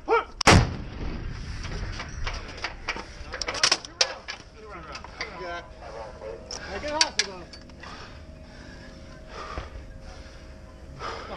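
M777 howitzer firing rocket assisted projectiles in Iraq: one huge close blast at the start, then clanks, mechanical handling noises and sharp knocks, with voices talking throughout.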